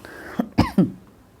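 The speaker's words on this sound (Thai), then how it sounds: "กลับมาไออีกแล้วนะ" Several sharp coughs from a woman with a cough, three short bursts in quick succession at close range, with no talk around them.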